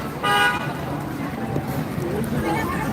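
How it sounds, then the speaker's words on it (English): A short car horn toot in Niagara Falls street traffic, with a voice talking over the ambient road noise. "we all know that honking helps,"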